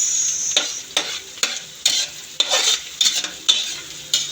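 Garlic and onion sizzle in a hot pan as the base for sardine, miswa and patola soup. A utensil scrapes and stirs in a quick, regular rhythm of about two strokes a second, loud and close, over a continuous frying hiss.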